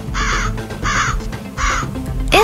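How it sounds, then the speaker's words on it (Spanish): Crows give three loud, evenly spaced caws close by, each a harsh drawn-out call, followed by a short higher cry at the end. "muchos cuervos comenzaron a bajar a picotearlos a todos"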